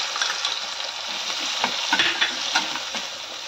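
Onions sizzle and fry in hot oil for a prawn and egg curry, a steady close crackle broken by occasional stirring scrapes, with no talking.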